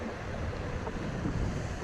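Wastewater at a sewage treatment plant pours steadily into a channel, a dense, unbroken rushing wash that stays even and moderately loud throughout.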